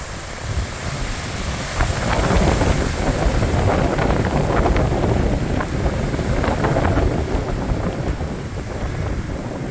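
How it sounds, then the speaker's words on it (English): Strong wind gusting across open rocky outback country in the Flinders Ranges at Arkaroola, a steady broadband roar with buffeting against the microphone that swells and holds throughout, with no voices. "There's that wind picking up again."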